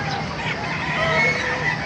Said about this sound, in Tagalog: Ay, gaganda ng mga manok dito sa Bukawi.